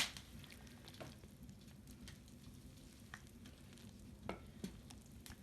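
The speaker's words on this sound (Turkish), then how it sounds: "işkembemiz ve biberimiz pişiyor" Tripe and peppers sizzle faintly in a pan while mumbar is cooked, a soft, steady crackle with occasional light pops and stirring sounds and no voices.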